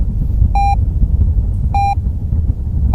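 A reversing warning beep sounds from an aircraft in the Eurofly 2 flight simulator, with three short tonal beeps at a regular interval over a loud, low engine rumble.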